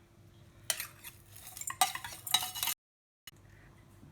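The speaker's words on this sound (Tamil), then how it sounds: "தயிரை லேசாக சிலிப்பின்னு இருக்கேன்." Curd is whisked in a bowl, giving soft rapid stirring and scraping strokes in a few short bursts over a low background hum, with a brief gap of silence.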